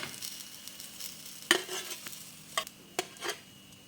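Suji bread toast patties frying in a pan, a quiet sizzle broken by a few sharp clinks and scrapes of a utensil against the pan.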